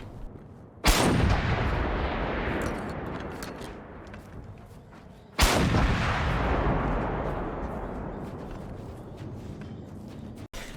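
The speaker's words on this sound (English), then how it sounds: "Now we got the best explosive weapon in the game, the RLG-7." The RLG-7 rocket launcher firing in the video game Generation Zero: two loud, heavy explosive blasts several seconds apart, each followed by a long rumbling decay.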